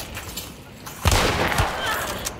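Gunfire in the game Hunt: Showdown: a sharp shot lands about midway, followed by a second heavier report and a busy, noisy background of in-game sounds.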